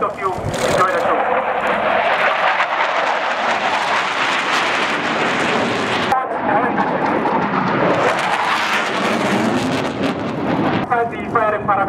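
A BAE Hawk jet flying during a flare-deploying countermeasures display at an Armed Forces Day military capability demonstration, a loud continuous broadband engine roar that swells and shifts, with a commentator talking over it.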